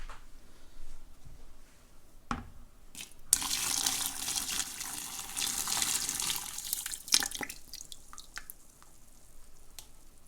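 Apple cider brine is poured over a turkey for smoking, a steady splashing pour of liquid for several seconds, close by, with a few knocks before and after.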